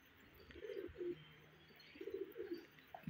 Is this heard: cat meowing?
no